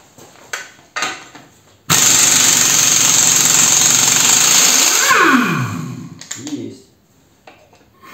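An impact wrench rattles loudly for about three seconds while running a nut down a rusty thread, then winds down. Short clicks and clunks come before and after it.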